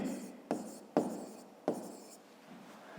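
A pen writes in a notebook during a 5th-grade math exercise, making soft scratching strokes with a few sharper taps, faint and close.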